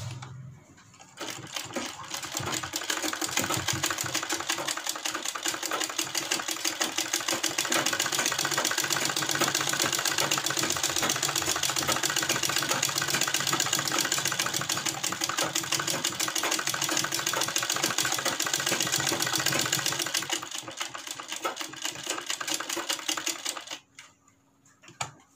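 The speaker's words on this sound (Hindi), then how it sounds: "फिर घुमाकर एक सिलाई लगा लेते हैं" An electric sewing machine stitches kurti fabric in one long continuous run, a loud, rapid, even mechanical whir close by that starts, holds steady for about twenty seconds, then slows and stops.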